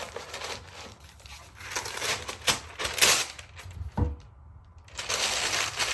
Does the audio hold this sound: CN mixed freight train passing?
no